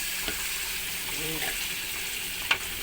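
Pounded chili, shallot and garlic paste stir-frying in a pan gives a steady, close sizzling hiss throughout, with one sharp utensil clack near the end.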